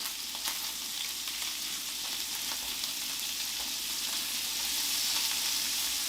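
A 4.5-pound beef roast sears in a hot pan for Texas chili, giving a steady, even sizzle with faint crackles throughout and no talk.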